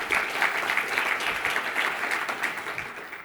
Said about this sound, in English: we can applaud that as well if we want to.